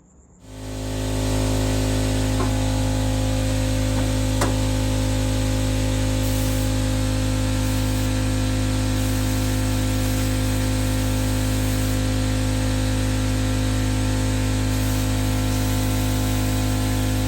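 A loud, steady hiss of compressed air blasts continuously and close through a 1963 VW Beetle fuel line, with a constant air compressor motor drone underneath and no talking.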